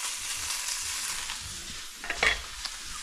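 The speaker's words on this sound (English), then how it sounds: "I'm going to get that with its own fat into kind of hot skillet here" Shredded meat in its own fat in a hot skillet, a soft steady sizzle with a brief clatter of stirring near the end, no talking.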